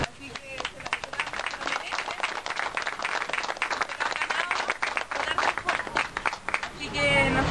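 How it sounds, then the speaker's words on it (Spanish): Audience applause for Mapuche artisans at the opening of a stall in the Pueblito Artesanal of Osorno, Chile, dense sustained clapping from a gathered crowd with faint murmuring underneath. "quiero pedirle un gran aplauso para ustedes"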